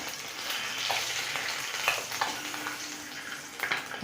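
Eggs frying in a pan for egg curry, a steady broadband sizzle with light crackles and a few scraping stirs throughout, close and moderately loud with no voices.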